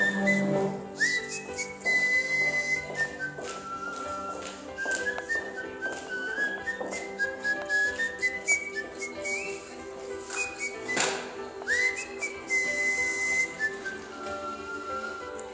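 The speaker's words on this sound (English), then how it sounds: "one of our great residents, whistling a tune" A resident of a care home whistles a melody at Christmas time. The clear, sustained whistled notes rise and fall across the whole stretch, with faint background sounds beneath.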